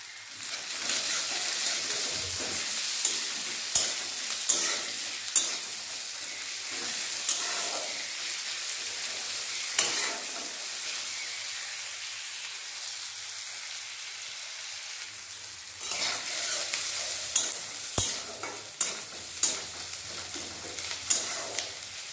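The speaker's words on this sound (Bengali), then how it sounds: "শুকনো পেঁয়াজ দিয়ে দিলাম। লবণ দিয়ে দিলাম।" Dried onions and green chillies fry in oil with salt, a soft sizzle broken by repeated scraping and stirring strokes, with clusters of clacking near the start and toward the end.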